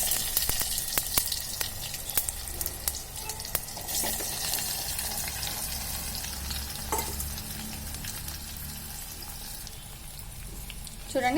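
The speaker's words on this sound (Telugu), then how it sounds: "ఆయిల్ అయితే వేడెక్కింది. ఫస్ట్ అయితే జీలకర్ర, తర్వాత ఆవాలు, తర్వాత మామిడికాయ ముక్కలు అయితే వేసేసుకుంటున్నా." Cumin, mustard seeds and mango pieces sizzling in hot oil for mango pickle, a dense, steady frying hiss with scattered pops and crackles close up.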